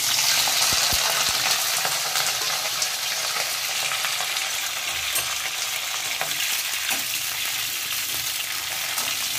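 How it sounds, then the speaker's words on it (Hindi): Cauliflower florets frying in hot oil for a halwai-style potato and cauliflower dish, a steady loud sizzle with occasional stirring scrapes, close and continuous with no talking. "इसे अच्छा ब्राउन होने तक हम फ्राई कर लेंगे, इसमें सुनहरा कलर आ जाए गोभियों में।"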